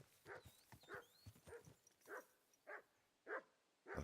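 Hooves of a horse in a video game clip-clop in a steady, even rhythm, about seven distinct beats, with faint chirpy calls drifting above.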